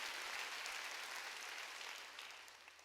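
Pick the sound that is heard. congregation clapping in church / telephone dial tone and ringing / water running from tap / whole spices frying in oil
congregation clapping in church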